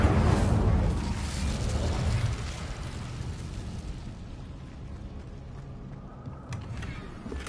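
Incendio fire spell cast in Hogwarts Legacy on PS5, a loud whooshing burst of flame that erupts and then fades into a long roaring, crackling decay, heard with no talking.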